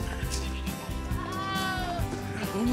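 Goats at a farm near a horseback riding area in Big Bear bleat repeatedly, nearby and clear, while people talk over them.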